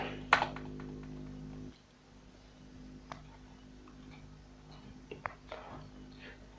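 A computer keyboard typing a short search for data entry: a few sparse, light keystroke clicks over a quiet room, with a low electrical hum that drops away early on.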